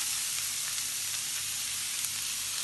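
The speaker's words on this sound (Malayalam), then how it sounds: "ഒരു പാൻ അടുപ്പത്ത് വെച്ച് ചൂടാക്കി എണ്ണയൊഴിച്ച് മൂന്ന് സവാള ചെറുതായി അരിഞ്ഞതാണ് ഞാൻ എടുക്കുന്നത്" Three finely chopped onions fry in hot oil in a pan on the stove, giving a soft, steady sizzle that holds evenly throughout with no voices over it.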